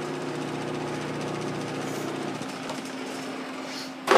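Homemade disc sander motor running steadily with a low mechanical hum and faint rattle, close and moderate, the tone shifting partway through before a sudden louder noise at the end.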